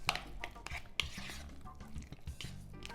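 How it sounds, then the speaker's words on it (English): Homemade guacamole being mixed in a bowl with cilantro, giving soft irregular scraping and squishing strokes of a utensil against the bowl, close and fairly quiet, with no talk. "So I'm going to mix this all together"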